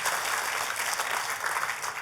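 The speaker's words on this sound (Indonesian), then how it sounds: "Tepuk tangannya yang paling meriah buat Tuhan kita." A church congregation applauds for God during a sermon, a dense, steady wash of many hands clapping at once that holds evenly from start to finish.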